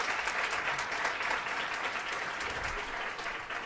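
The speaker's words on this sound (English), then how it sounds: "Let's go ahead and give her another round of applause." Dense audience applause after a campus career lecture, steady and sustained throughout, loud and close with no speech over it.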